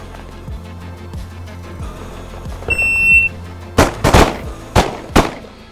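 Two-round firearm drill: a brief electronic start beep sounds, then a pair of sharp, loud gunshots, followed shortly by another pair, over quiet range background with faint earlier thuds.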